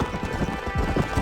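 A horse breaks into a gallop in Red Dead Redemption, a short burst of close hoofbeats thudding in quick rhythm.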